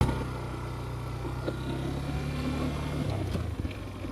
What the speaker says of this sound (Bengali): চলুন, তো বাইকটা আমরা একটু রাইড করে আসি